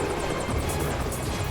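A helicopter in flight, a steady broadband rotor drone with a faint rhythmic chop throughout, fairly loud and continuous, with no voices over it.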